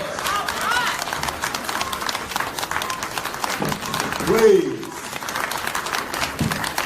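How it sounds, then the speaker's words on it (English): Audience applause for the American Institute of Human Rights, steady crowd clapping throughout with a brief spoken voice rising over it near the middle. "Give them a round of applause, a strong, come on."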